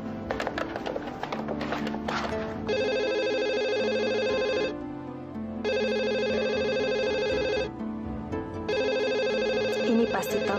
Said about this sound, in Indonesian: Ini pasti telepon dari Adrian.